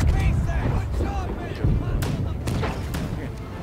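Several deep, heavy cannon booms from the ship battle game Blackwake go off in quick succession, with people's voices mixed in among the blasts.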